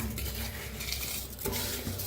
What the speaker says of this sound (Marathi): आता एकदा हलवून घेऊया आपण.